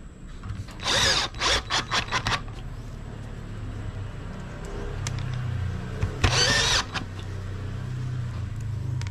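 A power drill drives 8 by 1/2 metal screws into a door in two short bursts, first in quick repeated whirs and later in a single longer run, with a quiet background between them.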